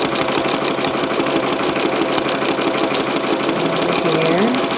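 A sewing machine runs continuously at a fast, even pace during free-motion quilting of a lattice grid design, its rapid needle chatter close and steady, with some talk faintly underneath.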